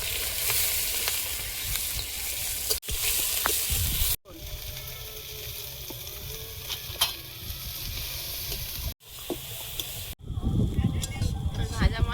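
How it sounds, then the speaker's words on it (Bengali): Whole cumin seeds hit hot oil in a home kitchen and sizzle steadily, with a bright crackling hiss broken by sharp utensil knocks and a brief lull. A voice talks over the frying. "তেলের মধ্যে দেবো একটু গোটা জিরে।"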